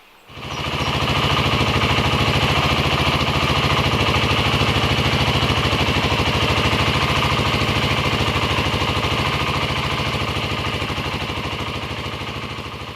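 A BSA Goldstar 650 motorcycle engine idles steadily to warm the oil, a loud, even low rumble with rapid regular firing pulses, close by and without any voices.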